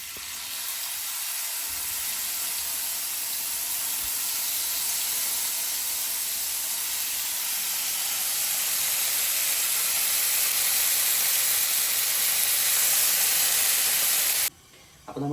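Chicken pieces fry in sunflower oil in a non-stick pan, a loud continuous close sizzle and hiss that stays steady, then breaks off briefly near the end.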